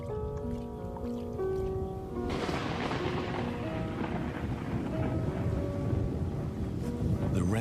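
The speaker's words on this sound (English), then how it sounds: "The rainstorm brings healing and relief to the land and the lions." Heavy rainstorm pouring steadily over open wild land, a dense continuous roar of rain that swells louder partway through, with deep rumbling underneath suggesting thunder.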